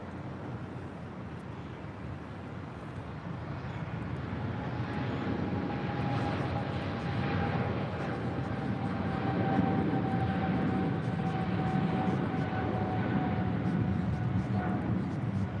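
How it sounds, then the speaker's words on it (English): A Philippine Airlines Boeing 777-300ER bound for Manila rolls down runway 25 right at Los Angeles, a broad, steady jet roar building gradually and holding loud and constant, with a thin whine running through it. "we've got the Philippine 777-300ER heading back to Manila, flight 103, now rolling down"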